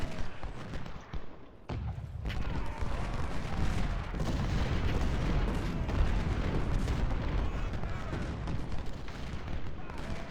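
A Union infantry musket volley at Second Winchester in a Civil War video game, heard as a dense, rumbling roll of massed gunfire and booming shots that stays loud throughout, with a voice speaking over it.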